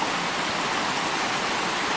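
A mountain creek on the right fork of Fall Creek near a mine adit rushes steadily, a close, constant broadband wash of flowing water with no voices.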